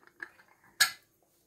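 A pressure cooker's lid and weight are handled on a gas stove, giving a few faint light metal taps followed by one sharp, close clank that rings briefly.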